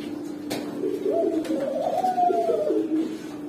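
Pigeons coo steadily at a pigeon farm with fostering birds, a low rolling coo rising and falling across the clip with a few faint clicks; near and moderately loud, no talking.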